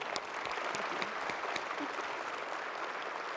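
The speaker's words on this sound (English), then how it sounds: "Can we have a big round of applause for her?" Sustained audience applause for Admiral Bono at the opening ceremony of the 2015 AMSUS annual continuing education meeting, dense and even clapping from a large hall with a few sharper claps standing out near the front.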